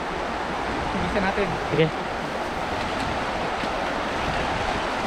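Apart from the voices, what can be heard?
strong river current flowing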